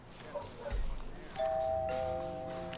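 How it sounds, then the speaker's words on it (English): A doorbell chimes inside the Hitman 2 game, its tones ringing out clearly and then holding for over a second over a low background hum. "I'll ring the doorbell anyway, just in case"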